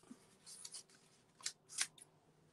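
Scissors snip through paper while cutting out shapes for a monoprint, a few crisp close cuts in quick pairs, separated by short quiet pauses.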